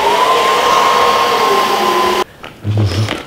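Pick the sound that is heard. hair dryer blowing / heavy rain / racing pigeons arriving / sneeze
hair dryer blowing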